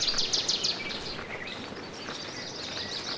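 Birds chirp in the colorful town of the video game Brothers: A Tale of Two Sons Remake, a quick series of bright tweets up front, then fainter scattered calls over a soft ambient bed, with no talk.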